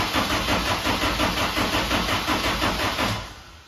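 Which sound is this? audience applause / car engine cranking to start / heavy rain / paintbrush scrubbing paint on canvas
car engine cranking to start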